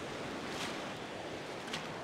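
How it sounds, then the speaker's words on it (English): Small surf washing onto a beach in bright sun, a steady broadband wash of white water with faint wind noise, close and continuous, with no voices. "I'm going to walk right to the edge when this little wave goes."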